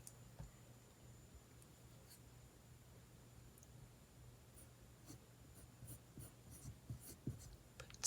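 A pencil scratches across paper in steady, faint strokes that grow busier toward the end, close and quiet with no voices.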